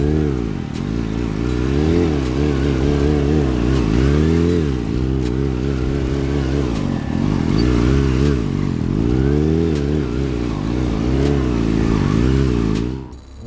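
A motorcycle circles on its rear wheel on a practice lot, its engine rising and falling in repeated revving swells, near and loud, with a brief fade at the end.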